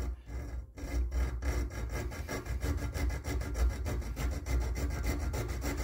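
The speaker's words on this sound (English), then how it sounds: "I'm just going to put my file in the middle, and I'm just going to score it" A hand file rasps steadily across a steel piece clamped in a vise, scoring a groove while making a homemade nipple wrench; close, loud, evenly rhythmic back-and-forth strokes run throughout with no talking.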